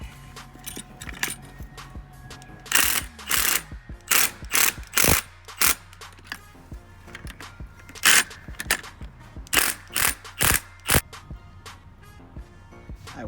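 Hand ratchet torquing nuts while fitting TEIN lowering springs on a 2016 Honda Civic, heard as repeated close bursts of rapid clicking separated by short pauses, with metallic clinks in between.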